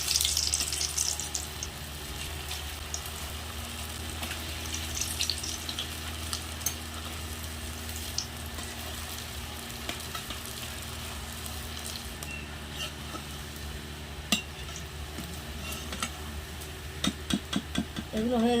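Snacks dropped one by one into hot white oil in a wok, giving a steady sizzling hiss with bubbling throughout and a few sharp clinks and taps near the end, close by with no talk.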